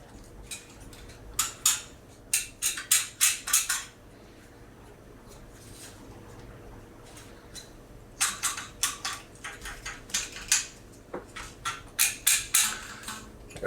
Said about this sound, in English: you can adjust your bobby pins forward and backward on the board, and that can change the pitch